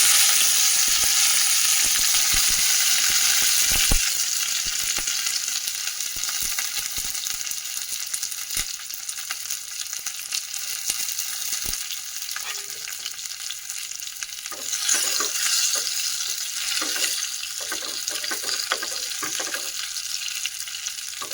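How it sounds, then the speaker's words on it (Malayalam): Dried red chillies, curry leaves and chopped shallots hit hot oil after mustard seeds pop, a tempering for South Kerala sadya parippu curry: steady close sizzling and spitting with scattered crackles that swell again near the end, no voices. "കടുക് പൊട്ടിയ പിറകെ ഞാൻ വറ്റൽമുളക് കറിവേപ്പിൻ്റെ ഇല ചെറിയ ഉള്ളി അരിഞ്ഞത് അതുകൂടി ഇതിലേക്ക് ചേർക്കുക"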